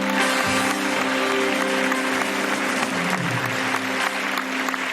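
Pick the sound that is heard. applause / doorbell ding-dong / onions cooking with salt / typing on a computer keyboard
applause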